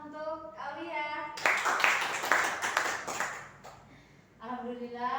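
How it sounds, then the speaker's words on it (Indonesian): A classroom of students clapping hands for a classmate during a micro-teaching lesson, a burst of dense applause lasting a few seconds with a teacher's voice talking before and after it. "beri tepuk tangan untuk Aulia"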